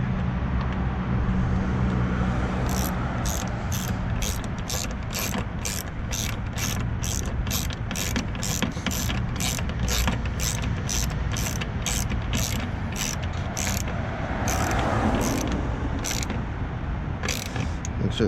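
Ratchet with an extension clicking in a fast, steady run of sharp pawl ticks while tightening a headlight bulb on a Ford F150 LED headlight upgrade, close and loud over a constant low engine-like hum.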